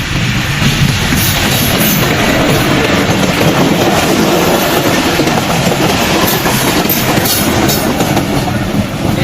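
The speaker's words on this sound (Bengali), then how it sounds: "ট্রেন প্রায় চলে এসছে" A train rolls past on the rails near a station, a loud, steady rumble and clickety-clack that holds for several seconds with no talking over it.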